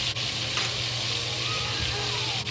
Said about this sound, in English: we cover it, keep it frying